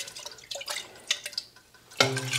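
Water splashes and drips while tomato jars are rinsed, with scattered small glassy drops and a louder gush of pouring near the end.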